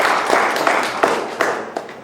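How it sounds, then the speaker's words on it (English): Applause from a small audience, steady clapping with a few sharper claps standing out, fairly close and continuing throughout. "give him a round of applause"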